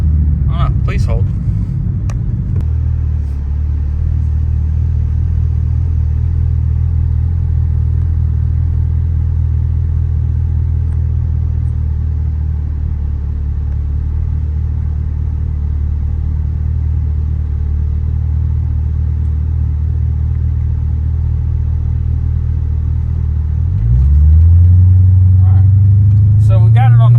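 A Cadillac CTS-V on a feeder road accelerates through the gears, its engine a loud sustained rumbling drone that rises in pitch near the end on a fresh pull.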